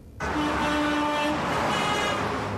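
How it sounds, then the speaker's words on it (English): Car horns blare in a long, steady honk over passing traffic on the 134 freeway in Glendale, loud and close, with a second horn tone joining midway. "Southern Californians honk their horns in support."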